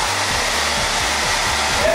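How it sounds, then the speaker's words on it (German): A hair dryer blasts continuously in a large hotel bathroom in Sahl Hasheesh, a loud, steady whooshing roar held close with a low pulsing motor hum throughout. "Ja, Föhn."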